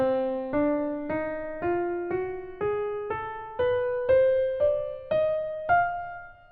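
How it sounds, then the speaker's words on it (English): A symmetrical diminished scale is played on an instrument as ten plucked or struck notes climbing steadily in evenly spaced steps. Each note rings out and then decays, with no talking. "But if you go follow the symmetrical diminished scale, which sounds like this on its own"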